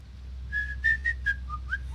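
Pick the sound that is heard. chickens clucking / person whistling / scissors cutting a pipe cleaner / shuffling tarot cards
person whistling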